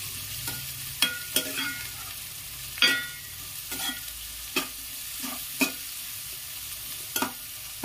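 Onions frying in oil with turmeric and salt, a steady soft sizzle broken by sharp scraping stirs every second or so, close up with no talk.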